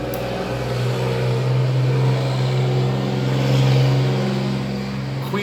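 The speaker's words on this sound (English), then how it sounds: "I'm going to wait till that truck passes" A truck passes by outdoors, a steady loud engine rumble that swells and fades slightly over several seconds, heard alone without talk.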